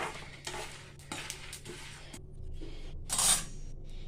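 Cumin seeds and black peppercorns dry-frying in a pan, with spoon stirring and scraping, light rattling of seeds against metal and a brief sharper scrape near the end.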